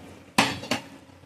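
Pot of vegetable curry set down on a gas stove, two close metallic clanks in quick succession, the first louder, then quiet.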